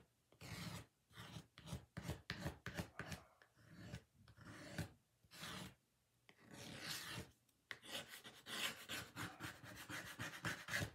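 Painted wood wagon being distressed by hand, a series of short dry rubbing and rasping strokes in uneven bursts separated by brief pauses, close and fairly quiet.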